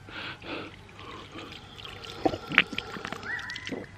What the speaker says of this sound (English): A water fountain.